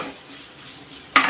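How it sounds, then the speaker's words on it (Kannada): Chopped onions fry in hot oil with a steady close sizzle and hiss, ending in a sudden metallic clank of a utensil against the pan. "ಈಗ ಇದಕ್ಕೆ ಕಟ್ ಮಾಡಿಟ್ಟಿರೋಂಥ ಈರುಳ್ಳಿನ ಹಾಕ್ತಾಯಿದ್ದೆ. ಇದು ಈರುಳ್ಳಿ ಚೆನ್ನಾಗಿ ಫ್ರೈ ಆಗಬೇಕು."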